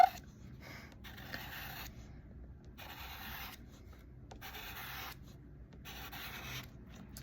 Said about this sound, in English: I'm just drawing lines.